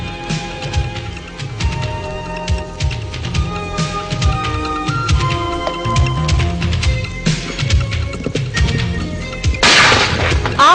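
Cock brand aerial fireworks bursting in the sky, with a dense, continuous run of loud crackles, booms and popping reports, building to an intense crackling barrage near the end.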